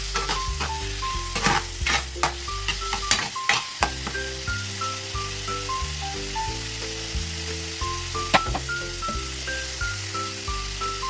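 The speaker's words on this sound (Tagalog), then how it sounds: "Tapos magigisa tayo." Shrimp sautéing in a pan for a mung bean stew, a steady sizzle broken by repeated stirring scrapes and clinks, with a bright tonal background running beneath throughout.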